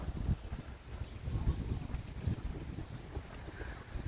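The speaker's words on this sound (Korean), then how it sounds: "혹시 이 바람 소리 들리시나요?" Wind blowing steadily outdoors at dawn on a walk, a continuous low rumble and rush buffeting the microphone, with no voices.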